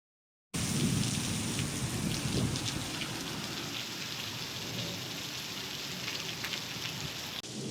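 Heavy rain pours steadily outside Moscow with dull thunder rolling beneath it, a dense unbroken roar that starts abruptly and stays loud throughout, no voices.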